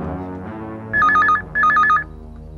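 A telephone rings twice in a warbling electronic pattern, loud and close, with a short pause between the rings.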